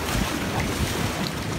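An Atlantic Ocean wave washes in over a rocky shore on the Aran Islands, a brief rushing hiss roughened by gusty wind buffeting the microphone.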